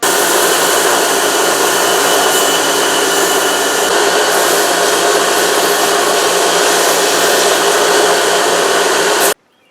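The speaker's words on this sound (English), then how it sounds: "I took it to the bandsaw" A bandsaw runs loud and steady while cutting a groove into a wooden knife display stand, a continuous whirring hum that stops abruptly at the end.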